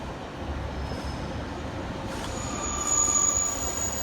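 A Class 153 single-coach diesel unit, 153374, runs at Stoke-on-Trent station as a steady, moderately loud rail rumble with faint wheel squeal and a high whine that rises near the end, without talk.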